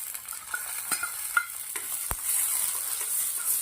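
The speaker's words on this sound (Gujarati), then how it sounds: "તો હવે આપણે ઝીણા સમારેલા ટામેટા નાખી દેવાના છે" Finely chopped tomatoes hit sautéed onions in a hot pan, bringing an even frying sizzle that grows a little fuller and steadier partway through, with a few sharp clicks and scrapes of a utensil.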